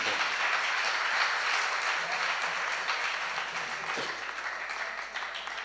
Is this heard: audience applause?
yes